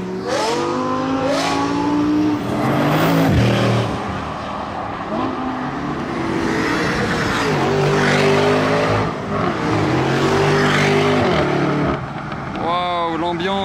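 Gumball 3000 supercars, including a Bugatti Chiron, accelerate hard through Calais, their engines rising and falling in repeated revving passes close by while people talk over the din.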